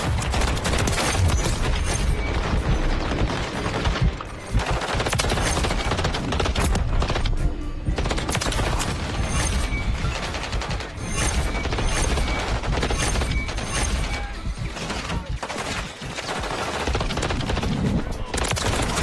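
Rapid bursts of DG58 rifle fire in Call of Duty: Modern Warfare III, dense and loud with mechanical clatter and brief pauses between volleys, game sounds layered throughout.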